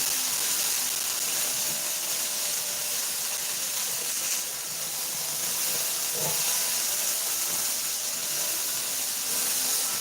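Spiced potatoes frying in a skillet give off a continuous broad sizzling hiss that holds steady and loud throughout, with a slight dip partway through and small scraping touches, no voices heard.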